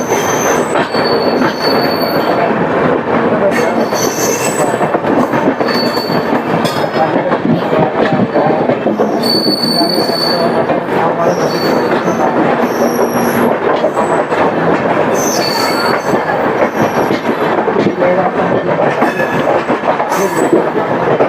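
A Haridwar–Amritsar Jan Shatabdi train hauled by a WP7 locomotive rolls along the rails with a loud, continuous rumble. Shrill wheel squeals rise and fall over the steady clatter throughout, and no voices are heard.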